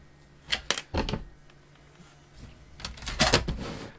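Scissors snip through sewing thread on pajamas, giving a few sharp, close clicks early on and another cluster of quick snips near the end, with quieter handling in between and no voices.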